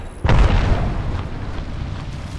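A grenade detonates in the video game Apex Legends: one sharp, heavy boom near the start, followed by a rumbling, crackling tail that slowly dies away.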